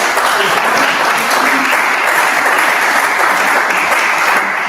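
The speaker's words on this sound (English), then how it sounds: "A round of applause." A round of applause at a startup demo night fills the room, loud, dense and continuous clapping from a crowd with faint voices mixed underneath.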